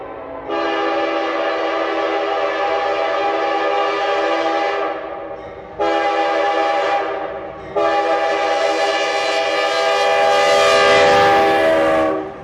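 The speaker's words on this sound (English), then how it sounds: "In front of me was this southbound mixed freight, Dash 8's pulling." A CSX southbound mixed freight train led by Dash 8 locomotives sounds its loud air horn in three long blasts, the last one held longest, while the train rumbles along close by.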